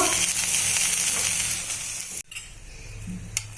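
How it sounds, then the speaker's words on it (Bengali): Cauliflower, fried until reddish-brown, sizzles steadily in hot oil, then a sudden clatter cuts in as it is poured out of the pan and the sizzle fades, with no voices. "কপিটা ভাজা ভাজা হয়ে গেছে লাল লাল করে"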